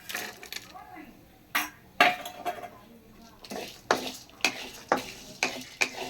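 Chana dal, asafoetida and coconut are dry roasted in a pan, with a spoon scraping and clinking against the metal in repeated strokes, light sizzling beneath, and talk over the stirring.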